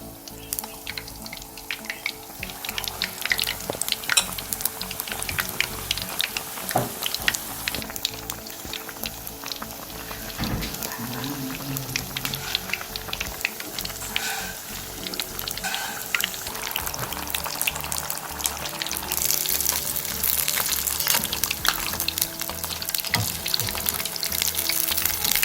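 Paneer-stuffed pakoras deep-frying in oil on low heat, a continuous bubbling, crackling sizzle holding steady at close range throughout.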